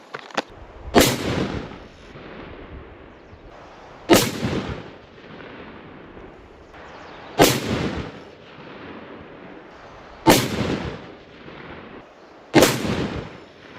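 Five rifle shots firing Nosler match grade 185 grain RDF bullets at an outdoor range, each a sharp loud crack with a rolling echo, spaced a few seconds apart.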